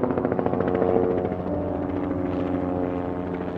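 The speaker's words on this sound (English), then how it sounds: "Mayo 1 is an emergency medical helicopter." The Mayo 1 emergency medical helicopter flies nearby with a continuous, steady rotor drone and a rhythmic chop. The sound eases slightly partway through and no voices are heard.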